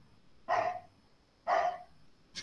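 Two sharp, loud dog barks spaced about a second apart indoors, with the start of a third at the end and quiet room tone between them.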